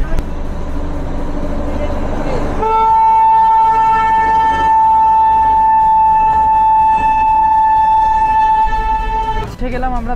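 Toy train passing Ghum station, the highest railway station in West Bengal, on the line to Darjeeling: loud rumbling running noise with a long sustained tonal horn-like blare through most of the passage.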